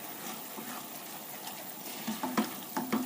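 Mushroom risotto with crème fraîche being stirred in a pan, giving a soft, steady wet bubbling hiss with a few light scraping clicks toward the end, close and fairly quiet, with no voice.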